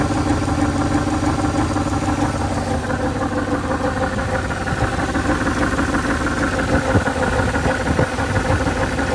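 A rough 1983 Dodge D150 Prospector truck engine idles nearby with an uneven, rumbling chug and breathy exhaust puffing through a hole in the exhaust, steady throughout.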